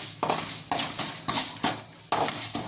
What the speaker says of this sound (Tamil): உளுத்தப்பருப்பு போட்டுக்கலாங்க, நல்லா செவக்க வறுத்துக்கலாங்க.